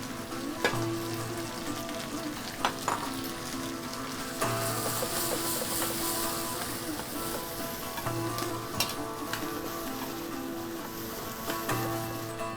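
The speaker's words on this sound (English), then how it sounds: "So I'm going to add my onions, Lebanese eggplant, or you could use just the normal eggplant." Onions and Lebanese eggplant fry in a tajine with a continuous close sizzle, broken by occasional scrapes and clinks of stirring; no one speaks.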